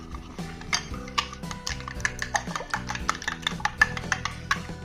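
An egg and maida batter being stirred in a bowl, heard as rapid, rhythmic clinks and taps of a utensil against the bowl, close by and continuous.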